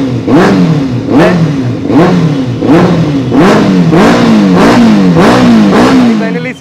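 A used 2016 Benelli 600 superbike with ABS, 24,000 km on it and an aftermarket exhaust, revs up and drops back about eight times in a steady rhythm, loud and close, the engine note rising and falling sharply with each blip.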